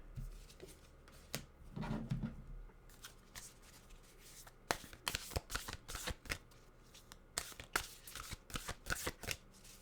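Oracle cards being shuffled by hand at close range, a soft rustle at first, then a rapid series of crisp riffling flutters and slaps in bursts, with no talk.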